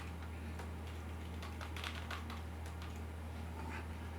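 A password being typed on a computer keyboard, a quick run of soft, close key clicks at an uneven pace over a steady low electrical hum, with no talking.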